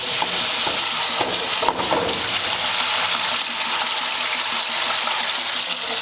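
Tomato tossed into hot oil in a wide pan after garlic has browned, giving a loud, steady sizzle and crackle that runs throughout without pause.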